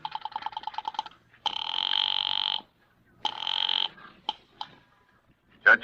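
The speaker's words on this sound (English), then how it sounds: "I went out to the switchboard and dialed the courthouse number" A telephone number is dialed at a switchboard as a radio drama effect: a rapid train of clicks, then long buzzing tones broken by short pauses, ending with brief sharper chirps, close and clear, with no talking.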